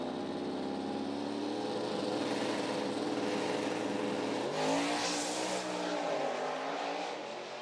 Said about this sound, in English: you could hear the tire chewing at the racetrack, and you could hear the RPM of the motor kind of fluctuating up and down